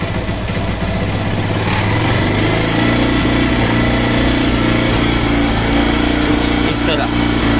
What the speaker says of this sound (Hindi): अभी हमें आरपीएम थोड़े बढ़ा लेने हैं